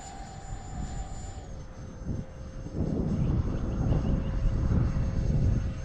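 An FMS Futura V3 RC jet with its gear and flaps down flies past. A steady high whine from the turbine holds throughout, and a broad rushing roar swells in partway through as the plane comes closer.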